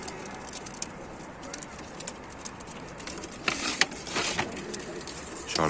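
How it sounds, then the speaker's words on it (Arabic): Flying pigeons at a loft in Tanta, Egypt, soft cooing and bird calls over outdoor background noise, with a few louder fluttering bursts near the end. "بديك حمام طاير يا رجاله، بديك حمام طاير"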